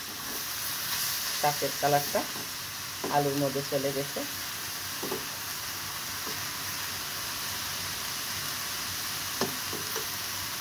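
Potatoes and red amaranth leaves fry in a pan with a steady sizzle and hiss. A voice talks over it in short bursts, and the sizzle continues alone between phrases.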